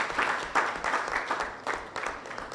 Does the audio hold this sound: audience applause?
yes